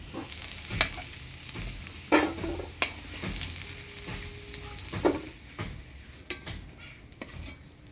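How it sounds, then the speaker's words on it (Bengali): Elephant foot yam fries in oil in a village kitchen, a steady low sizzle with several sharp clinks and scrapes of a utensil against the pan, no voices. "ওলটা লাল লাল করে ভাজে নিলাম, এবার নামিয়ে নিব"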